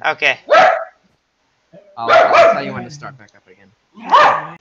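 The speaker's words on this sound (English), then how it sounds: "my dog started barking" A pet dog barks nearby in short loud bursts, a couple of quick yips then a longer bark and another near the end, with someone talking between the barks.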